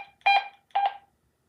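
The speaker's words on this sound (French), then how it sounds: "avec le bip comme ça, grave, on sait qu'on est au volume maximum" A Stabo freecomm 330 two-way radio set to maximum volume gives two short, low-pitched electronic beeps, close and clear, with silence between and after.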